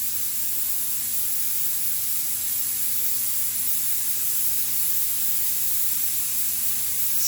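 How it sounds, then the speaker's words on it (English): Onions, ginger and green chilies sautéing in a pan with cumin seeds, a steady, continuous hiss of sizzling that holds at an even level throughout with no talk. "So I'm going to first saute these onions, ginger and green chilies"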